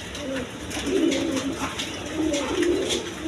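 A pair of red German Shield pigeons coo softly nearby, with several low rolling coos repeating in a loose rhythm over a faint background murmur.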